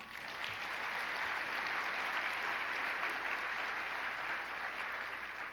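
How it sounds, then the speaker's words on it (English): Roughly 1,400 people at an economic outlook breakfast applaud a panel of economists, a thick, sustained wash of clapping that holds an even level for the whole stretch. "Huge round of applause."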